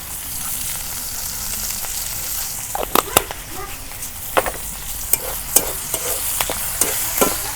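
Cumin tempering in hot oil, village-style, with a continuous sizzle and a run of sharp crackles and pops, close and fairly loud.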